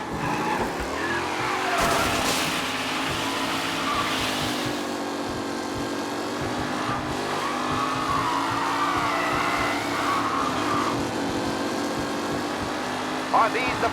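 Race cars in the video game Mafia Definitive Edition, with engines droning and tires squealing and sliding in sustained wavering tones, loud and continuous, with a voice speaking over part of it.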